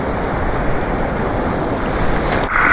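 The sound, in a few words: strong ocean waves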